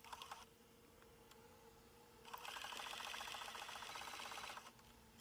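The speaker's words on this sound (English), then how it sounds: "I'm using a loose zigzag stitch and just going around the diamond's shape, stitching that down." A sewing machine stitches a loose zigzag around a diamond-shaped appliqué, a quiet run of rapid mechanical needle clatter lasting about two seconds between softer clicks and handling, with no speech.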